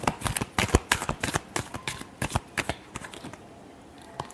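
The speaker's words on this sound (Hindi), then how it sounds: "last shuffle" A deck of tarot cards is shuffled in a rapid run of crisp riffling flutters and soft taps, close and fairly quiet, trailing off near the end with no talking.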